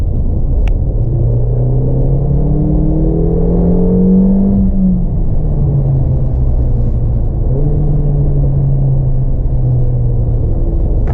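The engine of a 375-horsepower Mercedes-AMG GLA 45 drones loudly and steadily throughout, its pitch climbing under acceleration before easing off and climbing again, with no talking.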